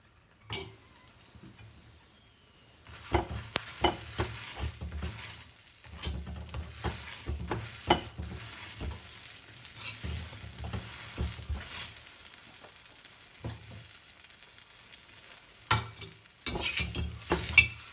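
Cheese paratha frying in oil on a hot pan, a steady close sizzle running almost throughout with small scraping and tapping sounds from turning and pressing it, no talking.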